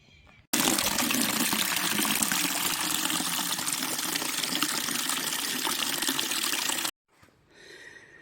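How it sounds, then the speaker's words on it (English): Water from a tap gushes loudly and steadily into a bucket and jug at an allotment, running for about six seconds before cutting off abruptly, followed by faint trickling. "I'm going to go and fill those with water"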